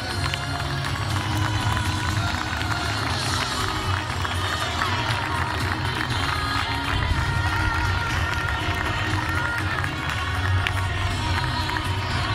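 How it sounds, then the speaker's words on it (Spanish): A crowd at a sports club's season team presentation claps and cheers continuously, a dense, steady roar of applause filling the space with a voice faintly mixed in. "¡Fuerte aplauso para todos ellos!"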